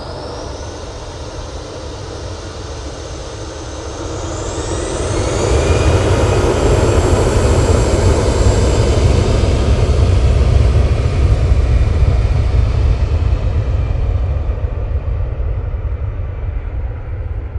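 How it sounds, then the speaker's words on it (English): An Emirates airliner rolls down the runway at Manchester Airport after landing, its jet engines giving a loud, steady roar that swells midway and then holds, with rushing noise throughout and no voices. "Looks like Emirates is going to go right down to the bottom and vacate there."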